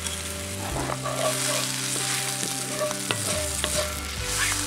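Sliced sausage rings and onion fry loudly in an oiled pan, a dense continuous sizzle with occasional stirring clicks and a low hum beneath, no voices.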